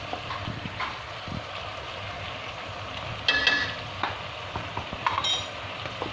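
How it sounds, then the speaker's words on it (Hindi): Ginger garlic paste frying in a pan for a chicken stew, a low steady sizzle with scraping stirs and a few louder clatters of the spoon, no voices. "अब इसको अच्छे से अदरक लहसुन को भून लें।"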